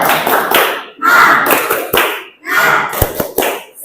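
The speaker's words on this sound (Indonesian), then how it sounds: "tepuk semangat" A class of students performs a rhythmic spirit clap, loud close bursts of clapping grouped into patterned phrases with short pauses between them, with voices mixed in.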